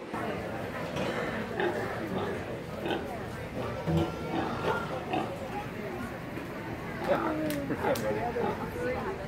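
Pigs grunt and oink repeatedly in a busy show ring at a county fair, with a crowd murmuring and people chattering nearby throughout.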